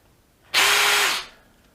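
A DeWalt Atomic DCD709 drill boring with a 32mm Forstner bit, one short burst of high motor whine lasting under a second, loud and close, then winding down to quiet.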